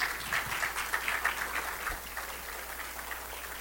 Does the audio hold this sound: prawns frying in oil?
no